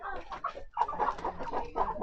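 A chicken clucks repeatedly at close range, a run of short throaty calls in quick uneven bursts.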